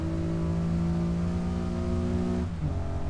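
A Honda NSX sports car engine in a racing video game at Laguna Seca holds a high, steady drone, then drops sharply in pitch near the end as the revs fall.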